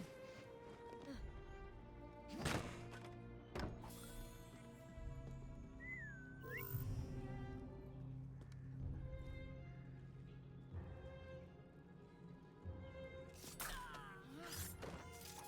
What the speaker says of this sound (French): j'ai juste à siffler et j'attends qu'il y en a un qui vient